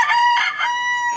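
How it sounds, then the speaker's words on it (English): A rooster crows once, close and loud, a clear drawn-out cock-a-doodle-doo with no other sound around it. "Brand new rooster. He's crowing."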